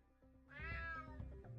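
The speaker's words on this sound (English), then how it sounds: "Damn cat." A cat meows in a stealth action video game on PS5 Pro, one drawn-out, rising-then-falling meow close and clear, followed by a shorter trailing mew against quiet background ambience.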